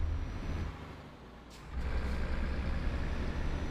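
A Mercedes MP6 truck engine in Euro Truck Simulator 2 on a snowy winter run rumbles steadily in a low drone, dips briefly with a short hiss like an air brake, then returns at a fuller, louder level with no talk.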